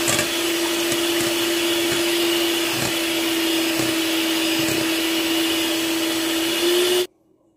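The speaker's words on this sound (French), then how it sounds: "Je monte les blancs en neige." An electric mixer whisks egg whites into stiff peaks for a chocolate praline entremet, a steady loud motor whine with a constant pitch, close and alone, cutting off abruptly near the end.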